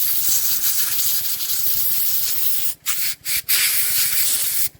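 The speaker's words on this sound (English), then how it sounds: "We're just going to blow all this crap off this carb." Compressed air blasts steadily at the carburetor of a 25-year-old V-twin lawn tractor, a loud, continuous hiss close up. The flow cuts out briefly a few times near the end before resuming.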